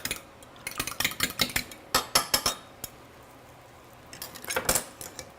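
Fork whisking canola oil in a bowl, a close run of quick metallic clinks and taps against the bowl, pausing briefly before a second short flurry.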